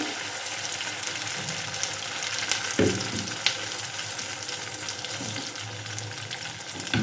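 Dalia batter with curry leaves fries in a pan, a dense, steady sizzle and crackle heard up close, with a brief louder splash-like burst partway through, no voices.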